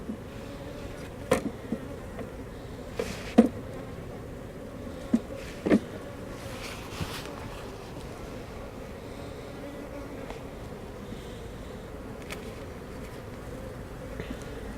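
Honeybees hum steadily from an open hive during a swarm check, a low, even drone that continues through the clip with a few faint clicks and knocks over it.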